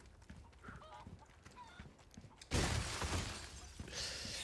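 Chicken squawks and honking clucks in the video game Resident Evil 4 Remake, sporadic at first, then a sudden loud burst of flapping, crashing noise that carries on for the rest of the clip.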